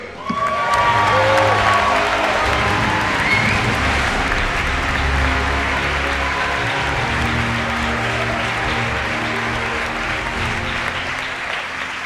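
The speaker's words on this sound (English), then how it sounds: "Please give a huge round of applause" Loud, sustained applause from a large crowd at a hotel awards ceremony in London fills the space, steady throughout with a few faint cheers.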